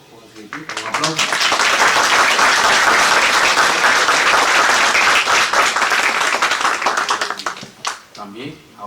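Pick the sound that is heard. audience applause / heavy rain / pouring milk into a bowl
audience applause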